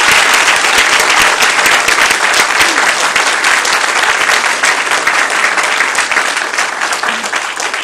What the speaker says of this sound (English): If you'd join me in a round of applause.